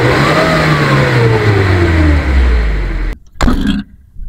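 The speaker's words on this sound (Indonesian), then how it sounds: "mesin ini dari suara stasioner sampai RPM tinggi, tidak ada suara yang aneh" A 2011 Suzuki Carry Futura pickup engine climbs from idle to high RPM, then drops sharply and gives a couple of quick blips, loud and close, with no talking.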